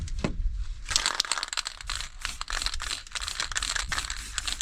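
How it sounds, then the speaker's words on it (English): Masking tape is peeled off a painted model Mini car, giving a sustained close crinkling, tearing rustle with rapid irregular crackles, loud and up close with no talking over it. "When you remove the tape, you'll see a line."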